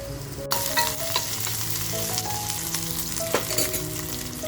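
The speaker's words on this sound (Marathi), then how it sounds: "आता जी आपण लसूण घेतली आहे ती लसूण सुद्धा कांद्यामध्ये टाकूया." Garlic is added to reddened onions frying for a spicy village-style mutton curry, producing a loud, close, steady sizzle with a few stirring scrapes and no speech.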